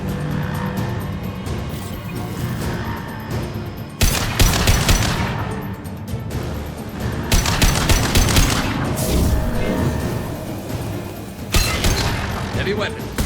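A heavy weapon fires in Mass Effect 2, delivering loud, repeated bursts of blasts in several clusters over a rumbling game soundscape, with a voice speaking between shots.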